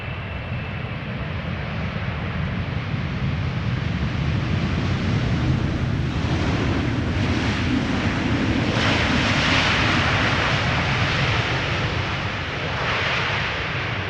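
A jet airliner arriving on the runway at Amsterdam Schiphol Airport makes a steady, loud broadband roar with wind noise, swelling slightly midway and holding without a reverse-thrust surge.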